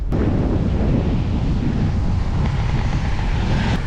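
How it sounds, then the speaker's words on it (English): Strong gusts of headwind roar steadily and loudly across a foam-covered GoPro on a bicycle, a dense, unbroken rush with no voices throughout. "just had some gusts of wind. They were considerably more than 24 miles an hour"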